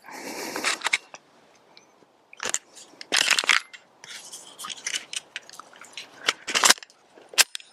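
Lone Wolf Arms TimberWolf 19 pistol fired in a string of sharp, loud shots with irregular gaps, some quick pairs, mixed with metallic clatter and handling noise between rounds.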